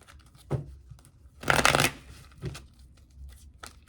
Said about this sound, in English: We're going to shuffle these here.